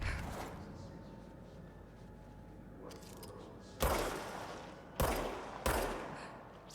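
Gunfire in the video game Control, aimed at mold, rings out as three sharp, loud shots spaced a second or so apart, each ringing off into a quiet, echoing room after a soft opening burst.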